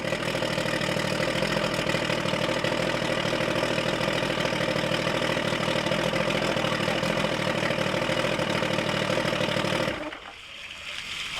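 An outboard boat motor, with its exhaust normally underwater, idles steadily and loudly for about ten seconds, then cuts off abruptly, leaving quiet background.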